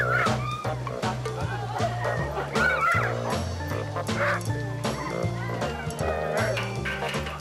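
A working dog barking repeatedly in short bursts over a busy, loud backdrop with steady music-like tones and other noise, the barks mixed in rather than standing alone.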